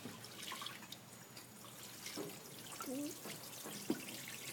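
Water poured into a floodplain model: soft trickling and splashing with a few distinct drips and plops, faint and intermittent over a quiet room background.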